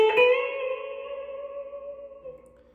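An electric guitar plays a riff: one struck note rings out and sustains with reverb and echo, fading slowly over a few seconds with no voices.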